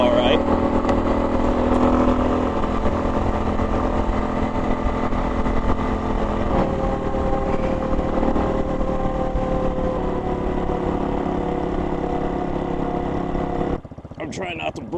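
A Hawk X 250 motorcycle runs flat out at roughly 65 to 70 mph, its engine droning steadily under heavy wind rush and a rider talking. The roar drops away abruptly near the end.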